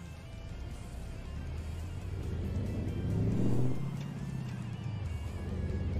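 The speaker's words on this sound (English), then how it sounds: "So I think I've still got both a Mack engine and transmission." A Mack engine with a Mack transmission pulls a heavy truck in American Truck Simulator, droning low and steady and swelling briefly as revs climb near the middle before settling back into a constant hum.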